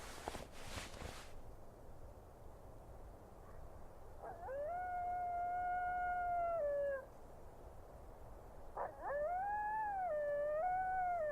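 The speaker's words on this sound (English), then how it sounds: "listening to the coyotes sent a shiver down my spine" Coyotes howl at night in two separate drawn-out, wavering calls, each rising then sliding down, heard at moderate distance against a quiet background after a brief rustle.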